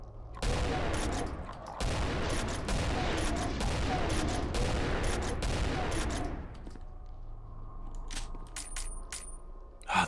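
Rapid gunfire in the video game Subterranean Dread, dense bursts of shots for about six seconds, then sparse isolated reports and clicks over a low hum.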